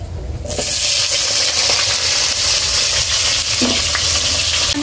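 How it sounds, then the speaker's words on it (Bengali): Potatoes fry in hot oil in a Bengali home kitchen, a loud, steady sizzle that starts after a half-second pause and carries on without a break, with a few stirring clinks over it. "আলুগুলো এবার ভেজে নেব।"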